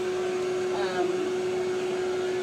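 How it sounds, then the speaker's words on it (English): Blow dryer running steadily while a show puppy is groomed, a continuous close whirring hum with a strong motor tone throughout, no talk. "Rather than be doing this than like cowering in fear with a big blow dryer."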